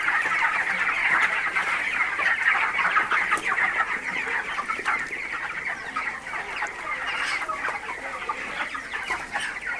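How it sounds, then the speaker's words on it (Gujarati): A poultry farm shed crowded with white broiler chickens and a black hen, fed soybean and maize. Their steady, dense clucking chorus is heard close up for about ten seconds with no voices. "બ્લેક ચિકન બી છે"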